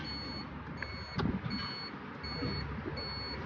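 An Arora Golf 01 electric car shifted into reverse gives a steady series of evenly spaced high reversing beeps, about five of them, over a low hum of background noise.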